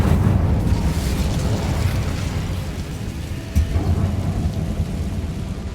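A fire spell cast in the Hogwarts Legacy video game rumbles and roars in a dense, steady burst of crackling flame that holds at the same loudness throughout, with one brief sharper flare partway through and no talking.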